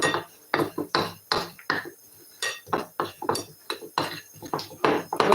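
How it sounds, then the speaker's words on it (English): Ingredients for a fish coating, seasoned with black pepper, being mixed in a bowl: a quick irregular run of sharp clinks and scrapes of utensil against the bowl, close and clear, with no voices. "we're going to mix this together"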